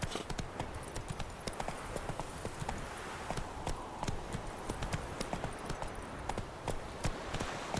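Hooves of a galloping horse in The Witcher 3 video game pound in a quick, steady clip-clop rhythm throughout, close and clear over a faint rushing background.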